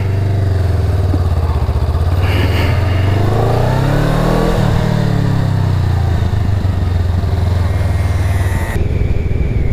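A Honda CMX 500 Rebel twin-cylinder motorcycle engine drones steadily while riding, its pitch rising and falling as it accelerates and eases off, with constant loud rumble.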